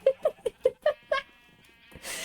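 Sheep in the video game Minecraft bleat six times in quick, evenly spaced calls, loud and close, followed by quieter game sounds and a brief burst of noise at the end.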